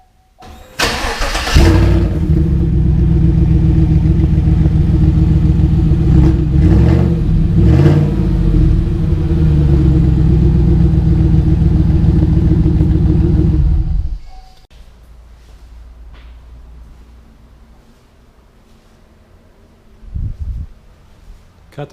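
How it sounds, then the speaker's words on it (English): Engine of a 2017 Chevrolet Silverado 5.3 V8 with the muffler removed, fired up and idling with a loud, deep rumble for about 13 seconds before cutting off. A brief low thump follows in near silence. "we're just gonna fire it up a minute. Hear what it sounds like with no muffler."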